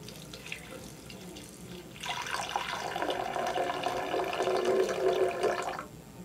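Half a cup of water is poured into a Vitamix Professional Series 200 blender container, beginning after a quiet stretch as a steady splashing stream that runs for about four seconds and then stops.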